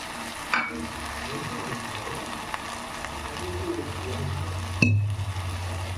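Potato curry for poori sizzles in a pan as it is stirred, giving a steady frying hiss. Two sharp metallic clinks of the spoon against the pan stand out. The sound is close and moderately quiet, with no talking.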